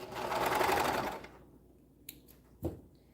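A serger sewing machine runs steadily for about a second and then stops, leaving a few small clicks and thumps in near silence.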